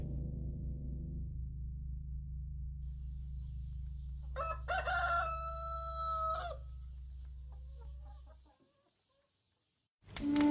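A rooster crows once loudly and close after a low steady hum, followed by a pause of near silence and a brief sound at the end.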